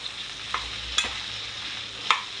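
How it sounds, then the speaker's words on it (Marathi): Okra and onion sautéing in a pan over low gas, a soft steady sizzle with a few sharp spatula scrapes and stirs, close and alone without voices. "व्यवस्थित परतून घेऊया आपण"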